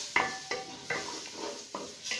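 Semolina being roasted and stirred into pumpkin halwa in a pan: repeated scraping strokes about every half second, with a light sizzle between them. Close and clear, with no voices.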